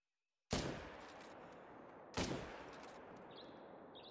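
A .300 Magnum hunting rifle in The Hunter: Call of the Wild fires two booming shots about a second and a half apart, each sharp crack followed by a long rolling echo that lingers across open terrain.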